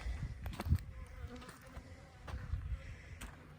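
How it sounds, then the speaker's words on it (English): Bees buzz softly outdoors over a watermelon field, a faint droning hum with occasional louder passes of insects flying close by. "The bees are right down there"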